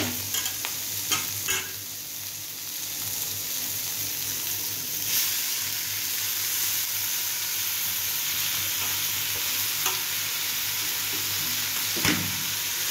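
Vermicelli upma with tomato cooks in a pan under a steady, fairly quiet sizzle, broken by a few scraping stirs near the start and a couple more later, with no voices.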